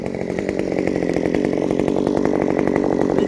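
A ported Stihl MS194T chainsaw cuts through dry, solid hardwood with a loud, continuous high-revving buzz close by, holding steady without letup.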